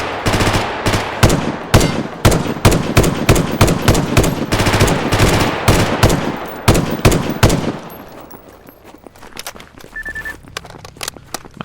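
Rapid bursts of close automatic gunfire in Stalker Gamma, sharp repeated shots for about eight seconds, then fading to a few sparse distant shots and quiet movement.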